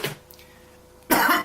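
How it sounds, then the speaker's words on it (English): A person's harsh coughing fit, with two loud bursts: one right at the start and a longer, louder one near the end, separated by near silence. "coughing my lungs up"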